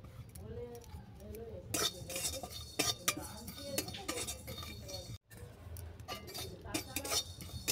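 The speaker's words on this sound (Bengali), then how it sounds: "প্রথমে কড়ার মধ্যে আমি 5 ফোড়নটাকে ড্রাই রোস্ট করে নেব" Panch phoron spices dry roasted in a wok, metal spoon clinking and scraping against the pan in quick irregular strokes, close up, with brief talking at times.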